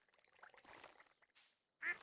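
Video game birds in Stardew Valley give a few faint quacking, duck-like calls in a quiet scene, ending on a brighter, louder squawk.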